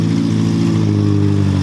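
A VW Polo MK2 engine fitted with a new exhaust revs loudly and close by, a deep, steady droning tone that swells slightly and holds for under two seconds, with no voices over it.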